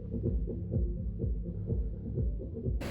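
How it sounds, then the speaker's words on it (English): A muffled, bass-heavy techno beat from a nearby cafe in Switzerland thumps steadily in the distance, with a low rumble underneath and a brief noisy burst at the end. "you can hear the beat in the background of these shots"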